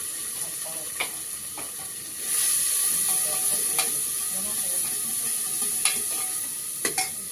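Onions and green chillies frying in a pan, a continuous close sizzle that swells partway through, punctuated by occasional sharp clicks and scrapes from stirring.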